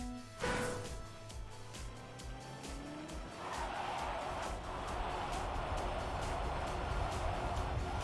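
Car engine in the Trackmania racing game revving and accelerating, a steady rising motor drone with tire-squeal-like skids, running continuously at close range for several seconds without speech.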